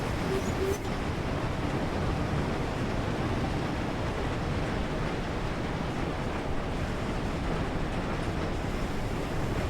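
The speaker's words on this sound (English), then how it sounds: "As a Pendolino departs from Preston Station." A Pendolino electric train pulling out of Preston station on the West Coast Main Line in Train Sim World 6, a steady, loud rumbling roar of wheels and motors that fills the whole stretch without letting up.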